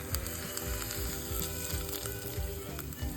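Garlic sizzles and crackles steadily in hot oil as the final tempering for palak dal, a loud continuous fry with occasional stirring, no voices.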